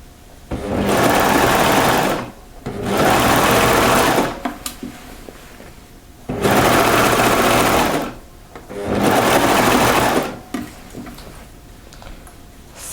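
A sewing machine stitches the sleeve seam of a French terry sweater in four bursts of rapid whirring, each about two seconds long, separated by short pauses with faint handling sounds.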